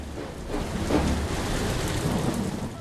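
Heavy rain with a deep rumble of thunder at sea in a ship simulator, a loud steady downpour with the low roll swelling near the middle, no voices.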